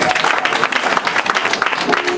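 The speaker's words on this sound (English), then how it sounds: "Give the choir another hand clap." Church audience applauding the choir at a pastor's anniversary celebration, a dense steady wash of clapping lasting a couple of seconds, fairly loud and close, with crowd voices mixed in.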